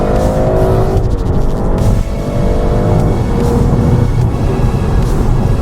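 A 2020 BMW M340i xDrive launches hard in Sport Plus with launch control, its engine roaring loudly and continuously up through the gears, with brief shift dips and some tire noise, close and steady throughout.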